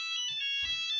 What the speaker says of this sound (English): hold up, that's my phone, hold up.